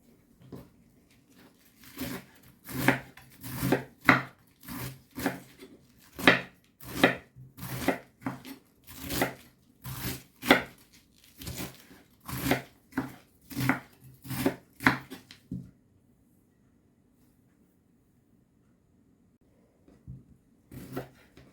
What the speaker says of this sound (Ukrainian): Я капусточку зараз буду шинкувати